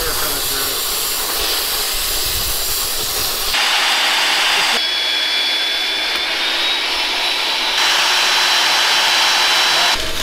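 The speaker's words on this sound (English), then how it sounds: "Now we're stick welding this because you can't always get a MIG welder into those tight places up there" Stick welding inside the tight confines of a boat hull produces a loud, continuous crackling hiss that shifts in intensity in several abrupt steps, sounding close and enclosed.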